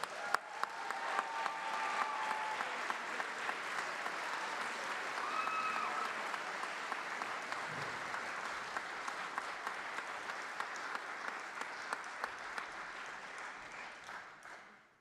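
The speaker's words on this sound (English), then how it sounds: "One more round of applause for them." A concert audience applauding graduating band seniors, sustained dense clapping from a large crowd that holds steady for the full stretch and tapers off at the very end.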